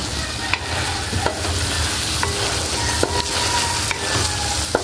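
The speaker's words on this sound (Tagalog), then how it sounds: "Haluin po natin." Pakbet vegetables are stirred in a hot frying pan with oyster sauce, a steady loud sizzle under repeated scraping spoon strokes and light clanks against the metal, close up and without talk.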